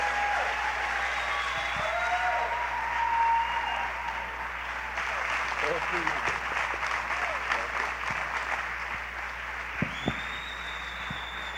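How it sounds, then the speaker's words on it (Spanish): Congregation at a church service giving a preacher loud, sustained applause, steady clapping throughout with a low hum underneath and faint voices mixed in. "Fuerte el aplauso."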